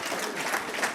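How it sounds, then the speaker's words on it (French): A conference audience applauds in a dense, continuous burst of close clapping at an even level. "on va encore applaudir Samuel."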